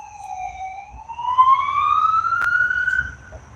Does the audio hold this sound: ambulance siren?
yes